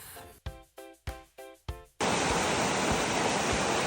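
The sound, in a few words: waterfall on a mountain descent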